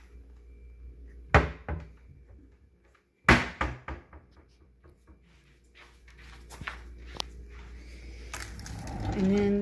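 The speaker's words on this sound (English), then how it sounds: "Another pull-out drawer." Kitchen cabinet drawers and doors opening and closing: two sharp wooden knocks and slides, then rattling runner mechanisms and small clicks as a pull-out drawer slides, ending in a rising rustle of handled items, fairly close.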